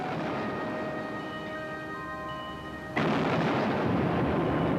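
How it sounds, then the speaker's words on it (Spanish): Cannon fire from the German raider Penguin pounding the British ship Domingo de Larrinaga off Ascension Island: sustained tones give way midway to a loud, dense rumbling roar of heavy gunfire that persists to the end. "Los cañones del Penguin acabaron rápidamente con este navío."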